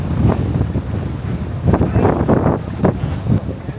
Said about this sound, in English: It may or may not be incredibly windy out here.